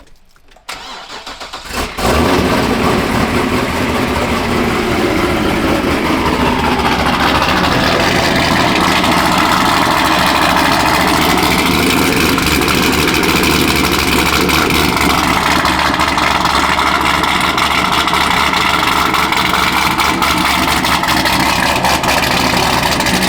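A Chevrolet Corvette Z06 engine, freshly repaired, cranks and fires, then settles into a steady, loud idle with a low, even rumble that holds for the rest of the stretch, with a faint change in tone partway through.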